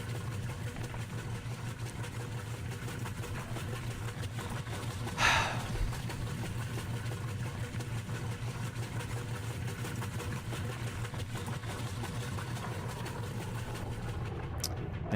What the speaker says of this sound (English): Don't let the hum of the engine distract you.